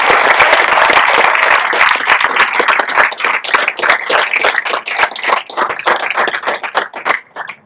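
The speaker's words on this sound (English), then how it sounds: "let's give a big round of applause for" An audience at a Rams "Cleats For Character" school event claps loudly, dense applause filling the opening seconds then thinning into scattered, uneven claps toward the end.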